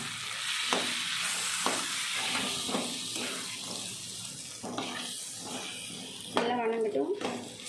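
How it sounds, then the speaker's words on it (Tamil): Eggplant and ground paste sautéed in a pan for a Tamil eggplant kuzhambu, a steady sizzle and frying hiss with intermittent stirring scrapes, heard under a person talking. "அதையும் நம்ம அப்படியே இந்த கத்திரிக்காய் கூடவே போட்டு நல்லா வணக்கி விட்ருவோம்."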